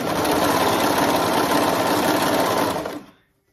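A sewing machine runs steadily, stitching the side seam of cloth diapers, a loud continuous close whir that stops abruptly near the end, leaving silence.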